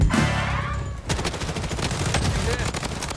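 KAR98 rifle fire in the shooter game Blood Strike, several sharp close gunshots at the start followed by a busy spread of rapid shots and impacts, heard alone without talking.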